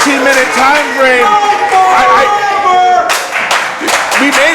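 A wrestling crowd at a match cheers in a loud, continuous roar with swelling waves of applause, under and around talk.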